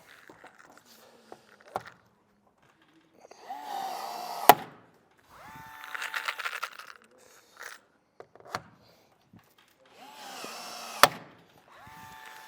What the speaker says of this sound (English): Once you got them in, rivet gun.